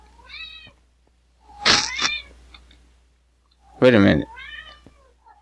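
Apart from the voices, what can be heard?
cat meowing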